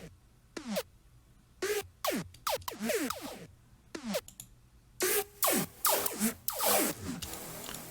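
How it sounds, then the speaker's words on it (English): Quick zapping laser-like synth sweeps, dry and short, firing in irregular bursts that grow denser and louder toward the end. "we have this lasery effect coming in, which sounds like this"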